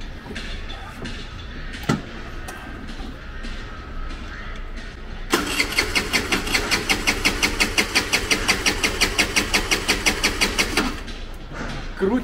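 A motor scooter's starter cranks repeatedly without the engine catching, a close, rapid rhythmic churning lasting several seconds after a brief thump, then cutting off.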